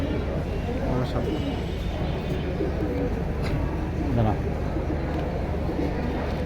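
Soft, low pigeon coos repeat in the background beneath nearby people talking over a constant murmur of activity.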